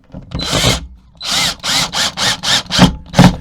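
A power drill drives screws into a wooden corner connector block for a van rear conversion, with loud close bursts of motor whine: one long run, then a series of short rhythmic pulses as each screw seats.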